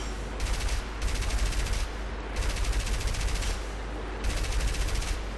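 Long machine gun bursts in a video game, three sustained rattling volleys of about a second each separated by short pauses, loud over a low steady rumble.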